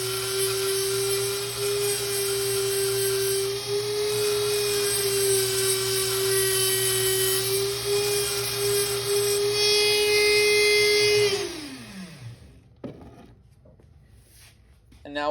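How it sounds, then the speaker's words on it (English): A cutting and grinding disc sharpens the rounded edges of a steel tension rod for an Abloy Classic lock pick, a loud continuous high whine that holds steady, then winds down and stops, leaving faint clicks. "we're going to be looking to clean up these rounded edges I'm pointing out here with a cutting disc, a grinding disc"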